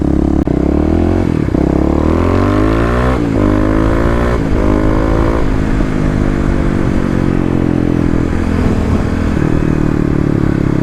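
A Kawasaki KLX351 dirt bike with its secondary throttle blade removed revs hard and loud close by, the engine note rising and falling in several sharp throttle blips over a continuous idle, with faint clatter.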